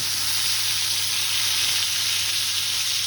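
Pork chops fry steadily in a frying pan, a dense, constant sizzle of hot pork fat with no pauses and no voices.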